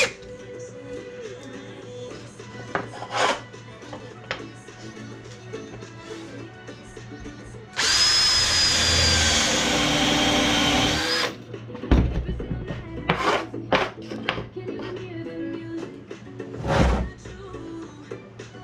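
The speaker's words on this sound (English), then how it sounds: "And then we need to drill a hole for it." A power drill whirs loudly and steadily for a few seconds, drilling a hole for a cork in a sailboat winch handle, preceded and followed by quieter handling clunks and knocks nearby.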